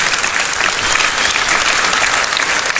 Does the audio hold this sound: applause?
yes